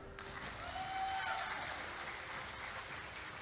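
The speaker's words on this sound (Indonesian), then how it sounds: "Tepuk tangan dong." Applause at an Indonesian political rally for the Amin campaign team, a soft steady wash of crowd clapping heard from some distance for a few seconds with a faint voice in the background.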